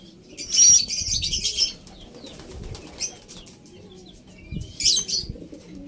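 Racing pigeon flapping its wings as it enters the loft after a race in Tagudin, Ilocos Sur: two short bursts of close, fluttering wingbeats separated by quiet, with soft low rustling and faint bird sounds between.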